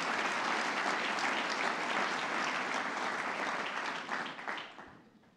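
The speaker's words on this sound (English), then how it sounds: "Round of applause for our board." A university gathering breaks into a round of applause for its board, a dense, steady clapping from a large crowd that holds for several seconds, then tapers off.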